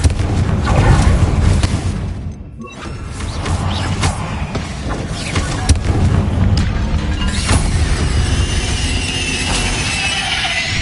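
Explosive Bombarda and Confringo spells blasting in Hogwarts Legacy during a spider fight, a run of heavy booms and crackling bursts over a constant loud rumbling din, with no pause for the whole stretch.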